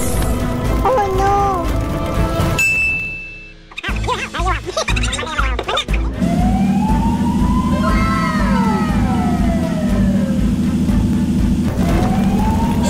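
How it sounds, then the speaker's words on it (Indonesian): A cartoon fire truck siren wails with rising and falling sweeps over steady background music, following an earlier stretch of cartoon sound effects and animated voices. "Syukurlah, mobil pemadam kebakaran sudah datang."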